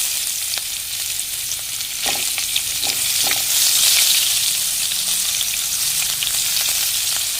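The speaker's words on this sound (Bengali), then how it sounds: "মাছ ভাজা এই তেলের মধ্যে একটা শুকনো লঙ্কা" Chopped onion and a dried red chilli sizzle steadily in hot oil left from frying fish, a loud, continuous near hiss with occasional stirring scrapes and no talking.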